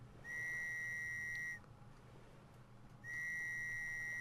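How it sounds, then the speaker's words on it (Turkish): A whistle blown in the survival game Stranded Deep gives two sustained, steady shrill blasts, each about a second and a half long, separated by a short pause over a low background drone. "Düdük çalıyorum"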